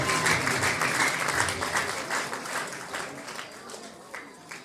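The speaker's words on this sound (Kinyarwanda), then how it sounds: "Amashyi menshi mu izina rya Yesu." A church congregation applauds a pastor, loud dense clapping from a large crowd that slowly thins and fades toward the end, with a few isolated claps trailing off.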